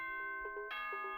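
A two-note ding-dong chime from Danganronpa: Trigger Happy Havoc rings out clean and bright, one tone sustained then a second answering tone, with no voices over it.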